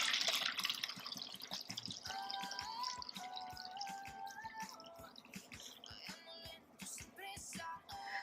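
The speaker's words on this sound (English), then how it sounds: "So now what we're going to do is we're going to pour that in." Brewed green tea poured from one container into another, a soft, close trickle with scattered drips and splashes at low volume, alone without talking.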